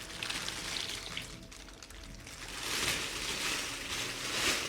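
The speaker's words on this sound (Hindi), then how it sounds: "ये भी पानी भी डालना है अभी ना।" Water is poured into a fermenting rice mixture for Tibetan chang rice beer, a soft, close splashing trickle that swells twice over a few seconds, with no talk.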